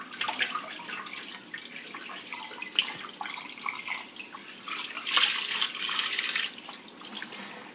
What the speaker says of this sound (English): we're going to give it another rinse